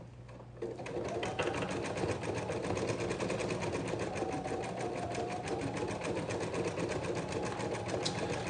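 A sewing machine stitches a hoodie, running at a fast, steady, continuous whir after a brief start, loud and close, with no voices.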